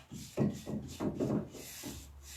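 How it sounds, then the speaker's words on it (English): A paint brush sweeps across a wooden drawer front, smoothing fresh paint in a coffee bar makeover, making soft, close, rhythmic rubbing strokes in a steady series of short swishes. "the brush smooths everything out afterwards"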